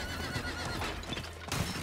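A horse in Diablo 4 neighs in a loud, close whinny that rises and falls over a bed of game ambience, with a second breathy snort near the end.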